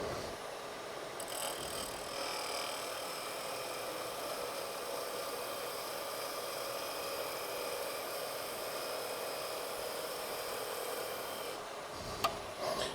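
A skew chisel cuts wood on a spinning lathe, giving a steady, close rasping hiss over the motor's hum that runs almost the whole way before stopping abruptly near the end.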